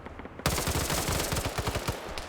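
Rapid automatic rifle fire from a FAMAS in a tactical PvP shooter match, a loud, sustained burst of closely spaced shots starting abruptly and continuing steadily with no talk.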